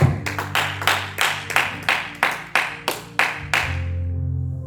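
A church congregation claps about a dozen times in a steady rhythm, loud and close, over sustained keyboard tones that carry on after the clapping stops.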